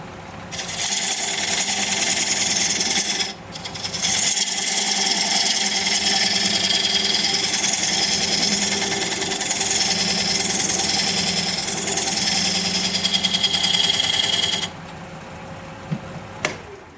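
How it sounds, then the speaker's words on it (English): A wood lathe spins aromatic cedar while a diamond point tool cuts the sides of a tenon, a steady close whirring and scraping hum that runs for long stretches with brief pauses. "Now I'm going to use this diamond point tool to square up the sides of the tenon."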